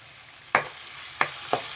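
Sliced onions for potato poori masala sizzle faintly in a pan, with three distinct stirring scrapes breaking through the low background hiss; no voices.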